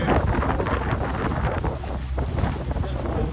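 Headwind blows across the river during a women's sculling race, buffeting the microphone with a continuous low rumble and gusty rushing, loud and unbroken for a few seconds.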